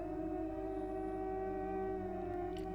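At midnight a dog lets out a long, sustained wolf-like howl, a steady drawn-out wail that carries on unbroken and fairly loud against a quiet night.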